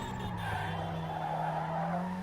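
Tires skid and squeal steadily as a car drifts sideways in Need for Speed Underground 2, a sustained screech over a droning engine, loud and close for the whole stretch with no pauses.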